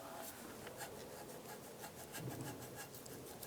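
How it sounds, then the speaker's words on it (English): A rear wheel speed sensor on a Jeep Cherokee is worked loose with a continuous close scraping and rubbing, in quick repeated scuffs with no talking. "Grab the sensor, give it a wiggle"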